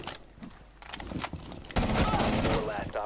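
Gunfire in Rainbow Six Siege: scattered shots early, then a loud, sustained automatic burst in the second half, with players talking over the shooting.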